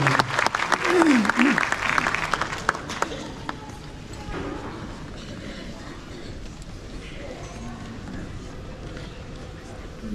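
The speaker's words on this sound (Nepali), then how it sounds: "उहाँलाई ताली बजाएर स्वागत गर्नेछौँ।" Applause for a reverend welcomed to speak at a church service celebrating a pastor's forty years, with a dense burst of clapping over the first three seconds that thins out and leaves quieter room noise.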